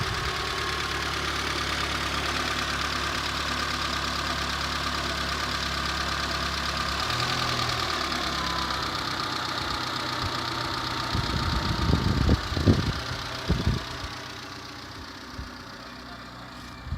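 A Peugeot 206 engine idles with a broken muffler, making a steady, loud, raspy drone throughout. Near the end a few irregular knocks and thumps break through, then the sound settles a little quieter. No one speaks.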